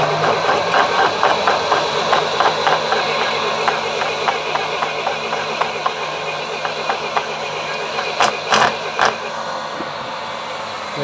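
Machine cutter milling out a broken stud in a casing, a steady mechanical hum with rhythmic pecking taps and clatters, a few sharp knocks near the end.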